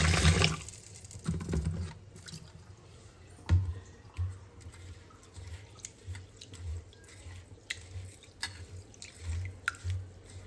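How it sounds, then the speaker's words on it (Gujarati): Cooked rice in a bowl being rinsed with water in a home kitchen, with soft drips, splashes and squishing of wet grains in irregular bursts, close and fairly quiet. "હવે આપણે એને પાણીથી ધોઈ નાખશું."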